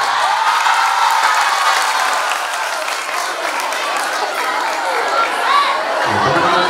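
Audience in a religious guidance gathering for Islamic junior and senior high school students applauds and cheers, a dense, loud wash of clapping mixed with crowd chatter and whoops, sustained for several seconds before easing off.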